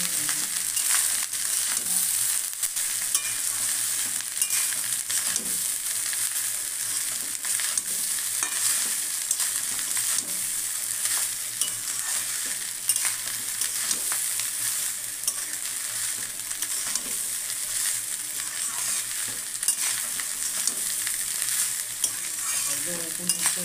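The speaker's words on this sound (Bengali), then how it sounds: "এর নাড়াতে হবে, ভালো করে ফ্রাই করে নিতে হবে" Prawn malai curry mixture with onion and green chilli frying in a pan, a constant bright sizzle with steady stirring scrapes running throughout, near and with no speech.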